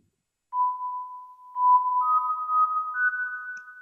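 A mysterious music-box ding sample played in an FL Studio sampler with added gain rings out as pure, sustained bell-like tones, starting with one note, then stacking higher notes into a faint, glassy chord.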